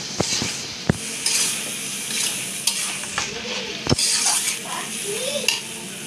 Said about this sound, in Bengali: এখন কষাবো।